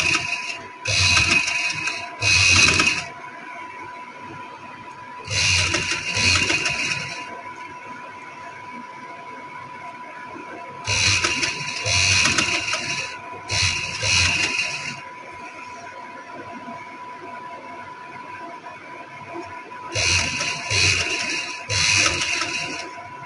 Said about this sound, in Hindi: ये पाइपिंग की साइड पर जो सिलाई होती है इसके ऊपर ऊपर सिलाई आए